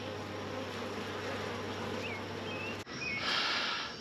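Honey bees buzzing around a hive entrance as foragers return with pollen, a steady close insect hum throughout, with a brief break and a brighter burst of buzzing near the end.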